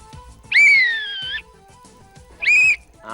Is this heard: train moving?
no